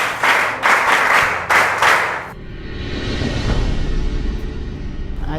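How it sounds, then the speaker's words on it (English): Two short bursts of group clapping follow a child's introduction at a birthday gathering, the second ending abruptly. A rumbling, low background noise takes over afterward. "Clap for him."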